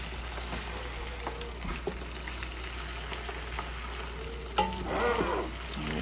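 Meat frying in a pot for Ghana jollof rice, with a continuous low sizzle and bubbling under a steady hum, plus a few scrapes and a louder stirring clatter near the end; no talk.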